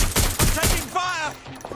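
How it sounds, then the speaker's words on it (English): Gunfire in the Watch Dogs: Legion video game: a quick burst of three or four loud, close shots in the first three quarters of a second, followed by a shouted voice over fading game sound. "Taking fire!"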